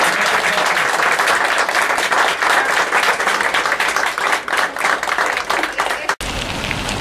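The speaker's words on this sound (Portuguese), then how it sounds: "Salvas para a Isabel, uma salva de palmas, por favor." A group on an outing gives Isabel a round of applause: dense, sustained clapping from many hands nearby, steady and loud for several seconds with a brief break near the end.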